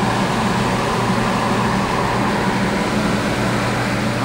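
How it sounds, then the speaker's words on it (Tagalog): A large homemade pugon dryer built in Basay, Samar runs with a loud, steady, even roar, a constant fan-like drone with a low hum underneath and no breaks throughout. "Ayan po yung dryer na ginawa natin dito sa Basay Samar."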